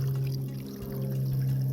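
Water trickling off a leaf set up to catch it into a container on a trail: a steady, close, fairly loud pour and dribble over a constant low hum, no voices.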